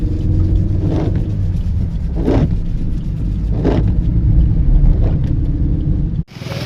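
A car climbs a misty hill road toward Toranmal, Maharashtra, its engine and tyres giving a steady, loud close rumble that swells a few times before cutting off abruptly near the end.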